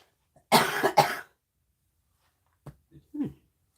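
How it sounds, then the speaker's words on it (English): Two sharp, loud coughs in quick succession, followed by a pause and a few quieter throat noises. "I got a cough."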